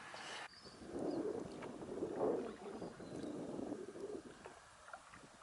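A canoe being paddled on open water, with soft, faint swishes and dull knocks recurring every second or so over light wind noise.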